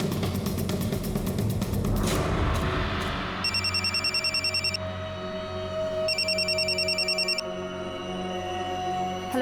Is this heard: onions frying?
no